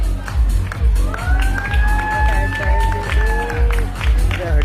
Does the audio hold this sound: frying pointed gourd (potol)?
no